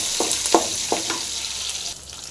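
Shallots, garlic and salt fry in a pan of hot oil for a bitter gourd stir-fry, giving a continuous close sizzle broken by three or four stirring scrapes that fade toward the end, no talking.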